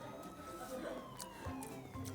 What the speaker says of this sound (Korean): 사이렌 소리 들려?